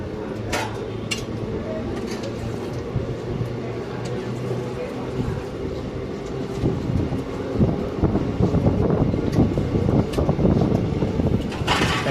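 The Basava Express, running from Yeshwantpur to Mysore, rumbles along the rails with a steady low roar and wind buffeting, and rattling and clatter build toward the end. A person talks over it.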